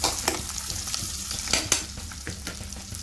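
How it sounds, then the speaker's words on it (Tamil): Onions and a bay leaf fry in hot oil for a Kerala-style chickpea curry, a steady close sizzle broken by several sharp scraping stirs of a spoon against the pan. "வெங்காயம் சேர்த்து லைட்டாக கிண்டி விட்டுக்கலாம்."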